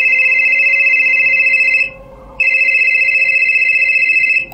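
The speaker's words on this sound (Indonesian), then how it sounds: "Tiba-tiba teleponku berbunyi." A telephone rings with a bright electronic trill, two long bursts split by a short pause, loud and close with nothing else over it.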